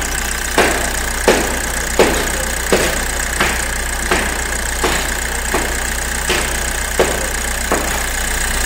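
Diesel engine of a Maruti Suzuki Ertiga idling with a starting problem, a steady close rumble broken by regular knocking pulses roughly every 0.7 seconds, with no talk over it.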